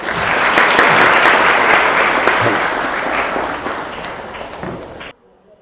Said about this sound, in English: Let's welcome Sir with a round of applause.